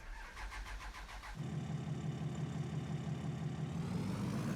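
A truck engine starts in the farming game Farming Simulator 25: a rhythmic starter cranking for over a second, then the engine catches and settles into a steady, fairly loud idle rumble.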